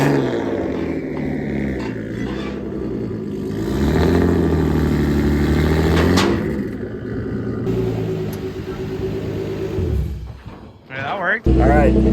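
A BMW E36 rumbles close by as it rolls down off a trailer, its engine note swelling midway and then easing back to a steady drone before a brief rise at the end.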